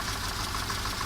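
Mercedes 190E engine idling steadily with a low rumble and a faint knock, a light valve-tap tick sitting in the running noise, close by, with no talking.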